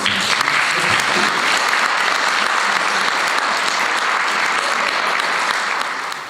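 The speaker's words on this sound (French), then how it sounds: "ça mériterait de notre part une bonne main d'applaudissements" Sustained, dense applause from a large crowd, steady and loud throughout with no clear voices rising above it.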